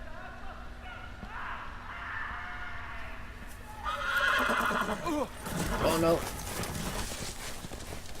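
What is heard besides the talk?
horse neighing and hooves in Game of Thrones video game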